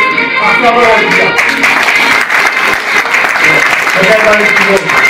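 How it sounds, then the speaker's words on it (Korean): In a church-building auditorium, a crowd at a civic movement's founding ceremony applauds loudly and continuously as flag bearers enter, with voices and other tones mixed in beneath the clapping. "박수 한번 하십시오."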